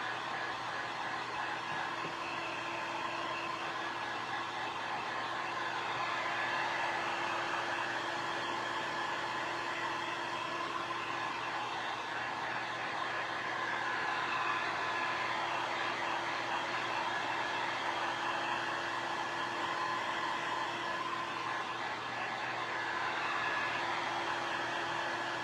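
A heat tool blows hot air over paint on a DIY Christmas wreath, a steady, even whooshing hum with a faint tonal whine that holds unbroken throughout, close and without speech.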